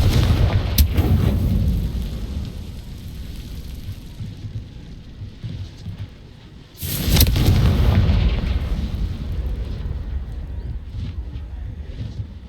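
Confringo blasting spells exploding in the Hogwarts Legacy video game: two heavy, booming blasts several seconds apart, each with a broad rumbling decay that lingers over a low background.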